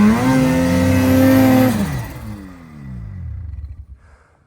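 Snowmobile engine revving hard near the microphone, a loud rising roar that holds, then drops away and sputters out over a few seconds.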